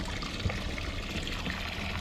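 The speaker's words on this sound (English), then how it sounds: "I just turn the bilge pump on in the boat" Boat bilge pump pushing water out of a small tinny, a steady close trickling and pouring stream of water running continuously without pause.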